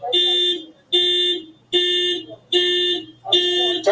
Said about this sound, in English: Turn the alarm off.